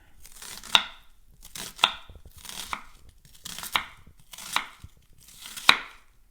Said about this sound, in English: we're going to chop down, but we're not going to cut all the way through the root